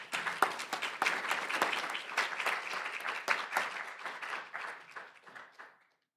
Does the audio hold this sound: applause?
yes